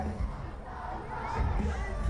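A concert crowd at Warped Tour 2015, heard up close from within the audience: a dense, continuous roar of shouting and cheering voices that swells slightly toward the end.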